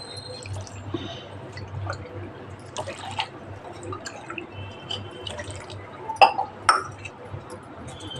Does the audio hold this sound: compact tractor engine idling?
no